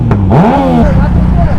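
A car at a meet revs hard with its exhaust spitting flames, a loud near engine note sweeping up and falling away, followed by rough idling rumble with voices mixed in.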